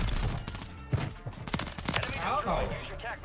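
Rapid gunfire in Call of Duty Warzone 3, with a sustained burst emptying a magazine, sharp close shots mixed with game effects and a player talking over the action.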